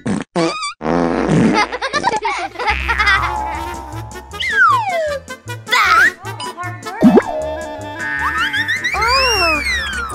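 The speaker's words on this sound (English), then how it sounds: "Fart discharge!" Cartoon fart sound from an animated toy-adventure character, a loud wobbling comic blast followed by squeaky slide-whistle swoops and bouncy musical effects, with playful voices mixed in.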